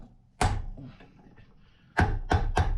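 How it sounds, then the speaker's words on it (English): A center punch struck with a hammer on a VW Super Beetle ball joint, one sharp metallic hit followed by three more in quick succession, close and loud. "So let's take our center punch and"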